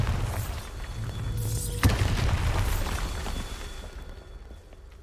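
A Bombarda spell explodes in Hogwarts Legacy with one sharp, loud boom and crackling burst around the middle, over a dense rumbling game backdrop that fades afterward.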